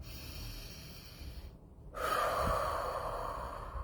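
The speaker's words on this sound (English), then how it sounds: "stop and start taking really deep breaths in through your nose" A deep breath drawn in through the nose, heard as a close, airy inhale rising after a brief silence and sustained to the end, with no talking.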